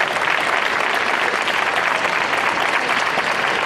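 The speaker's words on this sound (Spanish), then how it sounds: "Un fuerte aplauso también para CIOF," Audience applause at an international folk music and dance festival, a dense, even wash of many hands clapping that holds steady and loud from start to finish without speech.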